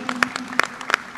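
Audience applause at a special jury award presentation during the TANA 2017 convention, a brief burst of scattered claps from a crowd, moderately loud with no talk over it.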